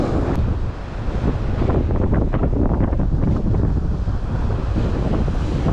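Strong wind buffets the microphone in a steady roar while fishing on Thassos island, with a rushing, gusty texture throughout.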